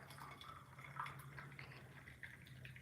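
Mint tea trickles into a cup in a soft, continuous pour with light dripping and splashing, quiet and close, with no talking.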